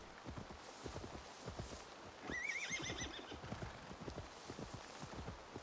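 A horse in the video game Assassin's Creed Valhalla clip-clops steadily while it whinnies once partway through, with faint background ambience.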